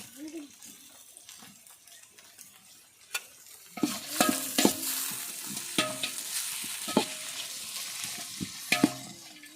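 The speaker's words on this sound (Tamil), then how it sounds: "வெங்காயம் தக்காளி நல்லா வதங்கிருச்சு" Onions and tomatoes fry in a pan while being stirred for a home-cooked dum biryani. Soft sizzling runs throughout, joined halfway by sharper scraping and clattering stirring strokes that repeat irregularly and sound close.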